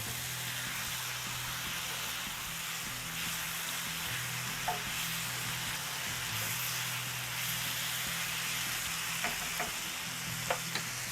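Food frying in oil over high heat to a golden colour for a Ramadan iftar dish, a steady, dense sizzle running throughout with occasional small pops and stirring clinks, no voices.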